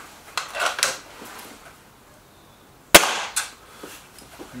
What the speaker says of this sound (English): I'll just have to put a pellet in this and fire it